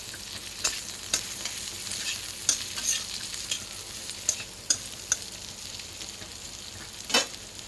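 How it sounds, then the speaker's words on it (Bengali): Chopped onions frying in a pan for a special egg recipe: a steady soft sizzle under repeated sharp scrapes and taps of a spatula, with a louder scrape near the end. No voices. "পেঁয়াজটা লাল লাল করে ভেজে নেব।"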